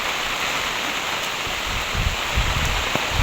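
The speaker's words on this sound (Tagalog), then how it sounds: "Lakas na ulan no." Steady, heavy rain pours down in a dense continuous hiss on a banana plantation, with a few close drops and patters striking nearby surfaces such as an umbrella.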